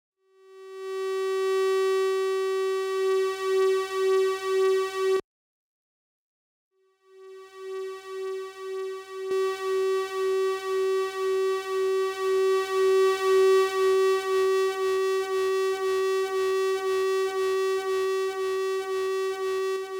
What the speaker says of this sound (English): You can hear, especially as we boost the channel, just how pronounced that interference effect becomes